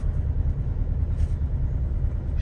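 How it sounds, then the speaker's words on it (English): A 1963 Porsche 356B 1600S coupe's engine idles steadily, a close, even low rumble with no voices over it. "And look, it idles smooth."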